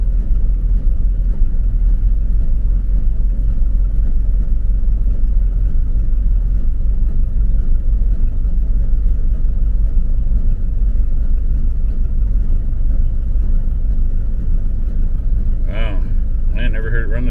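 A camper's engine idling roughly in freezing cold, a loud, close, low rumble that runs steadily throughout, with a brief burst of other noise near the end.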